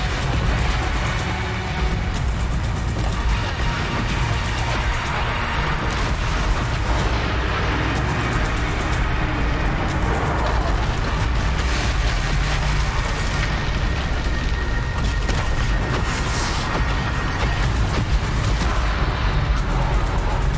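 Machines exploding in the Horizon Zero Dawn video game: a dense, continuous roar of booming blasts and rumbling low-end impacts that stays loud and sustained throughout, with no clear gaps between bursts.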